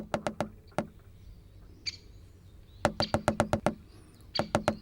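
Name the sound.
woodpecker drumming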